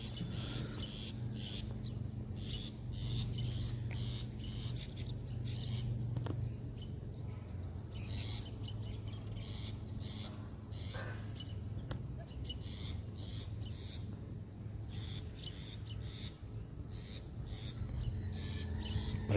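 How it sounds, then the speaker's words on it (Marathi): Outdoor ambience beside rice paddies in a Konkan village, full of steady insect buzzing and distant bird calls, with a constant high-pitched drone and low hum underneath. "पक्षी आवाज वाटतेत"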